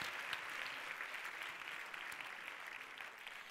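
A Famelab 2017 semifinal audience in Barcelona applauds a contestant named Pablo, a dense, even wash of clapping, faint and distant, holding steady for a few seconds.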